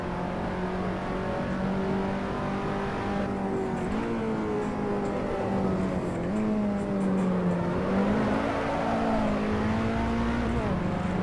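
Race car engine in the Assetto Corsa racing game, droning loudly and continuously, with pitch climbing under throttle, dipping at gear shifts and rising again as the car accelerates out of a corner.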